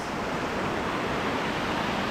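Mountain river water flows at Gabur Gabur Falls in Peñablanca, Cagayan, a dense, steady rushing wash that stays loud and even throughout with no voices.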